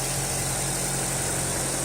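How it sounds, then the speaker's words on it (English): A Mazda FP/FS engine idling with a newly fitted engine cover, a steady continuous low hum with a constant mechanical drone, close and unchanging throughout. "Engine is running"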